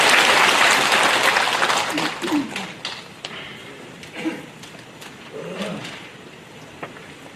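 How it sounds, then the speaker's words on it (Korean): Applause from an audience at a rally in a hall for truth, justice and settling past wrongs, a dense, loud burst at the start that thins to sparse, fading clapping, with a voice speaking over it. "뜨거운 박수를 부탁드리겠습니다"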